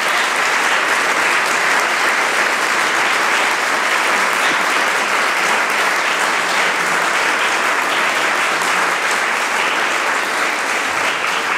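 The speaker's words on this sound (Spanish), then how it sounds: "Cerramos con un cálido aplauso para ellas" Sustained, loud applause from an audience at the launch of a leadership training program for rural women in Argentina, steady and dense throughout with no break.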